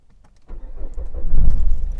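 A 2002–2010 Nissan Micra K12 with the 1.5 dCi diesel engine starts after a brief click of keys: the starter catches and the engine rises into a close, loud, rumbling idle within a second or two.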